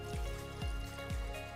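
Water poured into a Cosori gooseneck electric kettle, a steady close trickle with a few gulping splashes as the stream lands.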